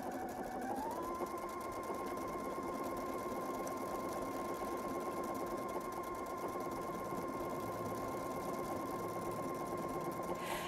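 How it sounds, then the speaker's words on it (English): A Pfaff sewing machine stitches a decorative pattern at speed on stabilizer, a continuous close mechanical whir with rapid rhythmic needle clatter and a motor pitch that rises briefly at the start. "I'm just going to go ahead and sew this stitch. And again, let's speed up the machine a little bit."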